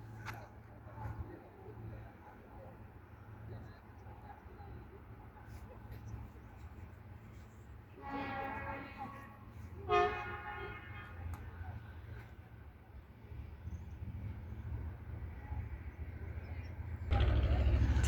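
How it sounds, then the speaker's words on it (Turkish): A heavy railway maintenance train rumbles past steadily at a moderate distance, with a couple of brief squealing horn-like bursts partway through and faint voices around. "Bakım yol bakım treni."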